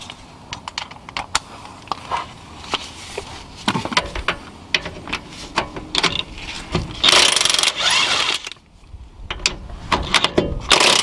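A ratchet with an E12 Torx socket works loose a stabilizer bar mount under a Mercedes C-, E-, S-class or CLS, a rapid clicking of pawl strokes in bursts, close and crisp, with short pauses and a brief metallic scrape.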